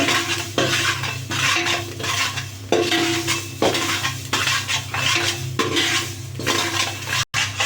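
Ragi flour is roasted in a pan and stirred, with a utensil scraping and knocking against the metal in repeated strokes, close and fairly soft.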